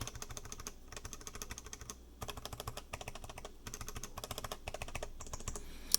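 Quiet, muted typing on a keyboard fitted with laser-ablated ABS keycaps, a soft rapid clatter of keystrokes in bursts separated by brief pauses, close up and alone.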